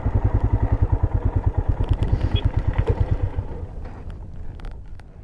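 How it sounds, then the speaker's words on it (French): Motorcycle engine running close by with a steady, fast thumping pulse for several seconds, then easing off to a quieter rumble as it winds down; no talking. "Alors je vais garer la moto"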